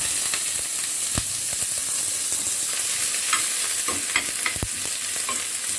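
Vegetables for fried noodles sizzle steadily in hot oil in a pan, a constant frying hiss broken by occasional sharp pops and scraping stirs throughout.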